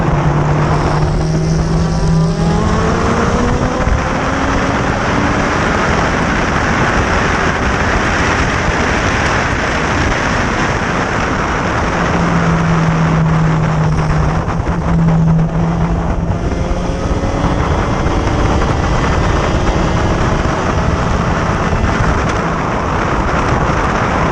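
Vintage SVRA Group 1, 2, 3, 4, 5 and 7 race cars start a feature race at Road Atlanta, making a loud continuous roar of many engines with rising and falling revs as the pack gets away.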